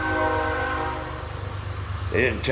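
A loud, sustained train horn blares over a rumbling engine, then fades as a voice briefly cuts in near the end.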